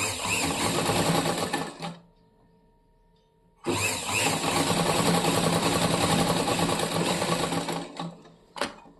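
A domestic sewing machine stitches a blouse in two long continuous runs, close and loud, with a short pause between them and a brief final burst.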